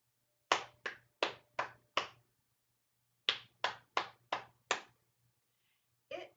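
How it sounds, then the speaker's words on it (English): Hands clap a rhythm in two groups of five even, sharp claps separated by a pause, with one more clap at the end, close and clear with no talking. "let's just clap it"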